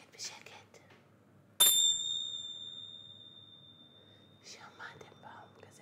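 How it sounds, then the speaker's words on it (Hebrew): A small bell struck once at a children's kindergarten theatre show: a single bright ding with a long, clear, ringing decay, heard close, between soft whispering before and after. "שמעתם פעם כזה פעמון?"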